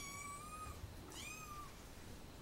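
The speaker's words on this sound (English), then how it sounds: "And apparently a big cat." A young cat gives two clear, rising meows in a quiet room, the second following shortly after the first.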